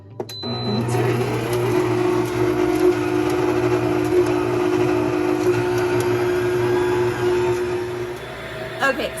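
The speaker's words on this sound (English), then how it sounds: "the Pampered Chef stand mixer is that it will automatically come gradually up and then gradually down with the speed needed for the setting" Pampered Chef stand mixer running in beat mode, a steady motor whine and hum that holds for several seconds after a click at the start, loud and close, ending with another click.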